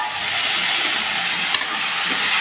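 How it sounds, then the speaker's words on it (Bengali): Mashed potato and tomato sizzling in hot oil in a pan, a steady loud bright hiss that runs without a break, with no voices. "তেলের উপরে ছেড়ে দিলাম আলু টমেটো মাখা"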